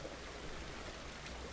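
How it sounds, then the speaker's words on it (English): Steady rain falling in the farming video game Farmer's Dynasty, a constant even hiss of drops throughout, quiet and uniform with no voices. "today's kind of a wash, literally, because of the rain"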